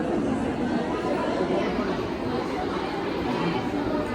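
A dense crowd of devotees at a temple darshan during a Navnath Urs fair makes a constant murmur of many overlapping voices, close and steady.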